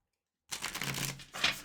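New oracle cards being shuffled by hand, a close, continuous papery riffle and slide lasting over a second after a short silence, with a sharper burst near the end.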